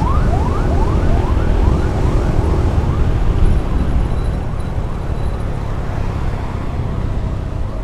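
Ambulance siren wailing in rapid repeated sweeps during a motorcycle escort through traffic, loud and near over steady engine and road rumble, the siren fading slightly toward the end.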